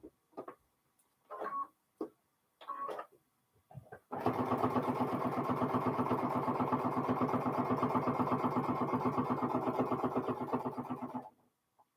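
A sewing machine stitches fabric coasters made from scraps, running in a steady, rapid, close run of stitches for about seven seconds after a few short, scattered bursts of sound.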